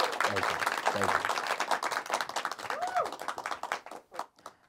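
Applause and clapping from a live studio audience at a kids' talk show taping, a dense, steady patter of many hands that thins out and fades toward the end, with voices mixed in.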